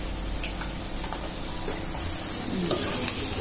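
Garam masala and a raw jackfruit biryani base fry in a pan, with a loud, close sizzle and stirring scrapes throughout.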